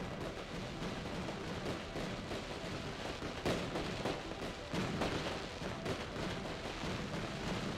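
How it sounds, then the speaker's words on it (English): Dense, rapid crackling bursts from fireworks in the sci-fi video game Surviving Mars, celebrating the first Martian born, fill the whole stretch as a continuous rumbling barrage with sharper pops scattered throughout. "That's a lot of fireworks"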